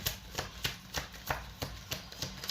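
Tarot cards are shuffled in a pick-a-card reading, a close, steady rhythm of soft papery slaps and riffles repeating about three times per second.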